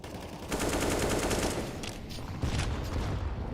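Sustained automatic gunfire rattles in Counter-Strike: Global Offensive on the Mirage map during an esports match, dense overlapping bursts from several weapons with a brief lull midway before firing resumes loudly.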